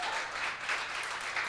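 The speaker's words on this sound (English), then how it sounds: "Another round of applause, yeah." Audience applause at a poetry slam fills a short burst after a contestant's score is announced: dense, steady clapping with no voices over it.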